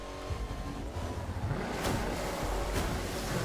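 Power boat in The Crew 2 dropping into the sea off the east coast, with rushing surf and wind-like water wash rising into a steady roar and a couple of splashy bursts.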